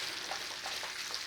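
Potatoes frying in a pan that held sausages for an Italian sausage and polenta casserole, a steady close hiss of sizzling fat with faint stirring scrapes.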